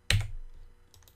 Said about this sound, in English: press F9 on the keyboard